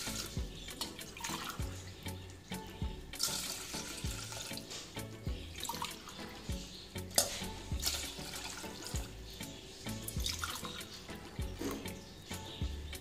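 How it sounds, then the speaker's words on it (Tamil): Water pours steadily into a vessel, about four cups, while hibiscus juice is prepared in a home kitchen, a continuous splashing stream with small surges and drips throughout. "நாலு கப் அளவுக்கு தண்ணி எடுத்துக்கேன்"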